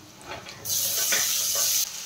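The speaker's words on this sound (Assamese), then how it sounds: "মই মাছৰ তেলখিনিতে আলুখিনি ভাজিছোঁ" A burst of loud, steady sizzling as potatoes hit hot oil and fry, lasting over a second before easing back to a quieter crackle.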